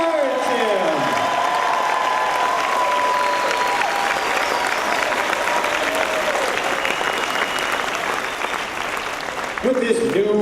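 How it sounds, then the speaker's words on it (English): Steady, dense audience applause runs continuously at an even level, with a sustained tone and some voices mixed in beneath the clapping. "So the audience started clapping to encourage him."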